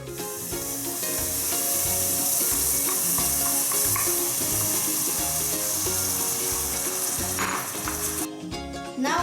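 Cream poured into a pan of frying gnocchi sets off a loud, steady sizzle and bubbling hiss, with stirring clatter and a brief sharper burst near the end.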